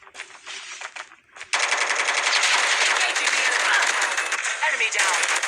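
Oden gun firing in a shooter video game, a loud, continuous automatic burst that runs without pause after a short stretch of scattered game noise.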